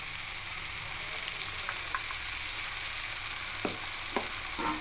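A green chili and poppy seed paste goes into a hot pan for a ridge gourd and potato posto, giving a continuous close sizzle with a few soft scraping stirs near the end and no voices.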